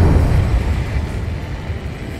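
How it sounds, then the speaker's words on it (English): Huge underwater explosion in the Ace Combat 7 game: a loud, deep, muffled rumble that swells at once and rolls on steadily for a couple of seconds, heavy in the low end with no voices. "A huge explosion just went off underwater."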